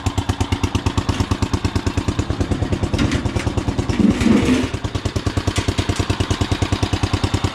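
A lawn tractor with its choke on and a new carburetor and air filter runs close by, its engine putting out a steady, fast chugging pulse that swells briefly mid-way before settling back to an even rhythm.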